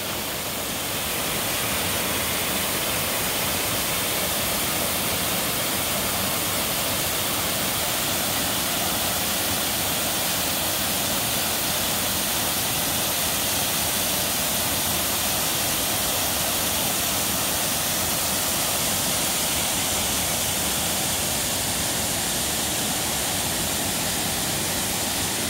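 Paulina Falls, an 80 to 90 foot waterfall in Oregon running at low water, gives a steady, dense roar of falling water that continues unbroken from start to finish with no voices over it.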